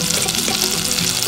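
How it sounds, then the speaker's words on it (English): Chopped onions, two medium ones, frying in a hot pan with oil left from shallow-fried beef, giving a steady, dense, close sizzle that holds at one level with no talk. "Now we are going to add 2 medium sized onions into the hot pan."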